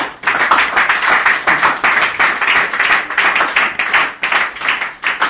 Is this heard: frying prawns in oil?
no